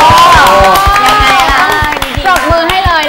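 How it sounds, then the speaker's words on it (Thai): A Thai television singing competition studio audience cheers and claps loudly, with whoops and crowd noise, and a voice sounding over the top throughout. "ปรบมือให้เลยนะคะคนนี้นะคะ"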